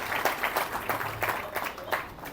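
An audience at a speech event gives a short burst of clapping, scattered hands pattering at moderate volume with some voices mixed in.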